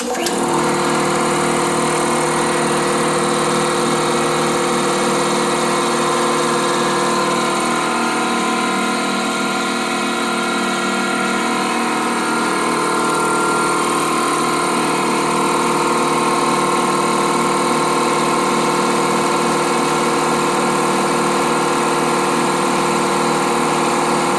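A Central Pneumatic 29 gallon 2hp air compressor runs continuously as it pumps up, a loud, steady mechanical drone with a buzzing motor whine, close by and with no talking.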